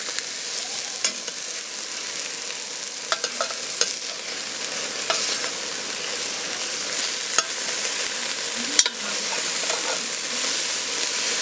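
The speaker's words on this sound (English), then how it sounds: "I'm just going to try to break it up the rest of the way and let it keep browning up." Ground meat for a shepherd's pie soup browns in a pot with a steady, close sizzle, while a utensil breaks it up and stirs, adding occasional scraping clicks over the constant frying hiss.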